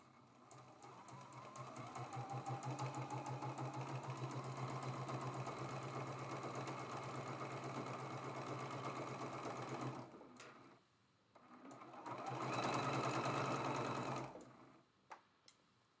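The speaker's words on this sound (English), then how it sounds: "We're going to stitch this one right on the line as well." A sewing machine runs steadily for about ten seconds, stitching quilt block pieces for a Maple Leaf quilt block. It stops briefly and then runs again in a shorter burst, with a constant close, rhythmic whirring hum and no talking.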